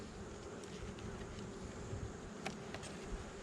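Honey bees from a swarm colony buzzing at an open hive, a soft continuous drone of many insects with a few brief nearer passes, fairly faint overall.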